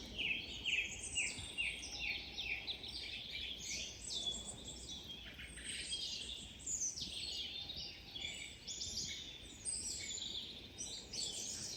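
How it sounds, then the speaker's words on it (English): Several birds sing and chirp continuously in the English countryside in the morning, overlapping bright trills and tweets at moderate distance, with a soft background hum beneath. "I wanted you to hear the birds."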